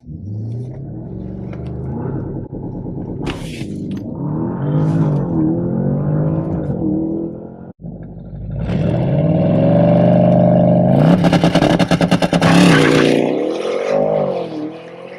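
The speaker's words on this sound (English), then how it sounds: "We're going to push our foot on the brake and we're going to rev it up." A 2019 Porsche Panamera Turbo in Sport Plus revs hard against the brake, then launches under launch control, the engine surging loud and close with rising and falling pitch sweeps through a brief gap and a roaring full-throttle pull.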